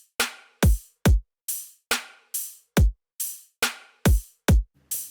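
Punchy electronic dubstep drums at 140 BPM play a simple pattern: deep, chunky kicks alternating with bright, layered snare hits, loud and dry, with no voices.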